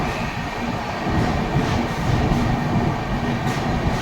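A passenger train rumbles through a quiet station at night, a steady low roll with faint rhythmic wheel clatter and occasional hissing swells, fairly distant and without voices.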